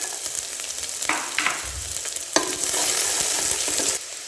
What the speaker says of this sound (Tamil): வெங்காயத்தை நல்லா வதக்கி விட்டாச்சுங்க